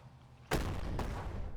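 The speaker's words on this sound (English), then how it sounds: "The anti-tank gun strikes back." An anti-tank gun fires in a war strategy video game, a single sharp, loud blast followed by a second, weaker report and a rumbling tail.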